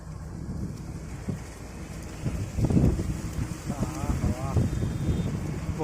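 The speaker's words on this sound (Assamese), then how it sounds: "বতাহ পুৰা দি আছে" Strong wind buffets an outdoor sports ground during a police recruitment running test, a steady roar of gusts with voices talking over it in the middle and end.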